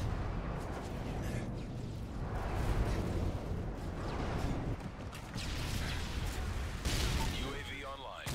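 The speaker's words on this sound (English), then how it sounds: "Delta airstrike on the way." Airstrike explosions in a Modern Warfare 3 match, a dense continuous rumble of blasts and gunfire, loud and heavy, with voices talking over the barrage.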